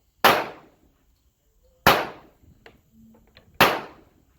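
Three loud, sharp pistol shots from a Rock Island Armory M1911 A1 in .45 ACP, evenly spaced about a second and a half apart at an outdoor range, each cracking close and decaying quickly.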